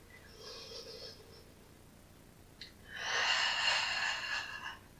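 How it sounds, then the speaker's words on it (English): Deep breathing during a home pilates flow, with a softer inhale followed by a long, louder, breathy exhale close to the microphone, with no talk. "Long inhalation and long exhalation. Carry on for two more deep breaths."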